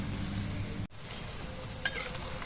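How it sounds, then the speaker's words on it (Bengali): Semolina and coconut laddus fry in hot oil with a steady sizzle while being gently stirred and turned, a brief scrape cutting in partway through. "এইভাবে ভালো করে আস্তে আস্তে উল্টে উল্টে ভেজে নেব"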